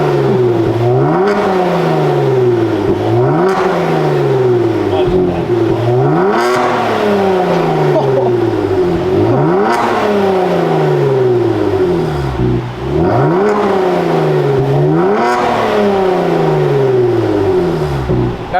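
Kia Stinger fitted with DC Sports downpipes and an MBRP catback exhaust, revving repeatedly in a steady rhythm of rising, raspy engine pulls that drop back between blips, loud and close with no talking.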